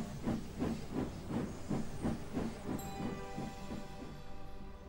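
A steam locomotive chuffs in a steady rhythm of about a dozen hissing puffs that fade into a sustained steamy hiss.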